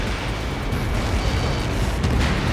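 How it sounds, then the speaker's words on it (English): A sustained, rumbling explosion in the video game Ace Combat 7, a dense roar with crackling debris that stays loud throughout and has no talk over it. "How many got caught in that explosion?"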